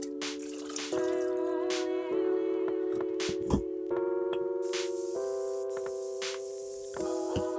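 Two liters of water poured into a rice mixture, a resonant gurgling stream whose pitch shifts in steps as the vessel fills, broken by small drips and splashes.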